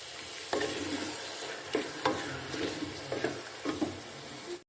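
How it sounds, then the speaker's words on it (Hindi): Onions frying and sizzling in cooking oil with whole garam masala for a chicken biryani, with a steady hiss and several stirring scrapes at intervals, close and fairly loud. "अब इसमें हम प्याज डालेंगे और इसको हम फ्राई कर लेंगे प्याज को।"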